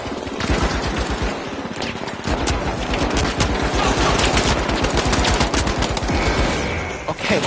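Rapid, sustained automatic gunfire in the arena shooter The Finals, dense close bursts of shots cracking almost without pause, with a faint voice beneath.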